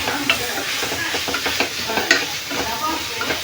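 Vegetables sautéing in a pan for cauliflower biryani in a village kitchen, a steady loud sizzle broken by repeated scraping stirs, close and continuous with no voices.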